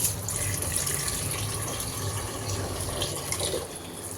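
Tap water gushes steadily into a sink while jute leaves are washed beneath it, a continuous close splashing rush with no talk.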